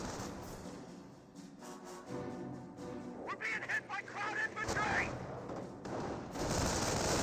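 Rifleman squad gunfire in the Company of Heroes strategy game, dense overlapping shots and a steady wash of battle noise, loud and continuous, with a voice faintly underneath.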